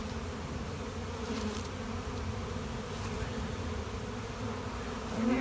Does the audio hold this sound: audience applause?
no